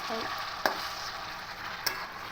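Chicken frying in a pan for a Bengali potato chicken kosha, a steady close sizzle with two sharp scrapes of the spoon against the pan as it is stirred.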